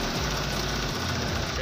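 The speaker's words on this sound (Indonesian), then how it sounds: "Jadi mesin cucinya untuk pengeringnya sudah kembali normal." A washing machine's spin dryer, running normally again after being repaired, gives off a steady loud mechanical hum and rumble with a low throbbing vibration, continuous throughout.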